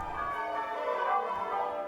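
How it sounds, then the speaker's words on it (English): Church bells rung in celebration of the Eighth Army's victory at the Second Battle of El Alamein during the Second World War, a dense, continuous wash of overlapping tolls ringing steadily with no voices. "church bells being rung in celebration of the 8th Army's victory at the Second Battle of El"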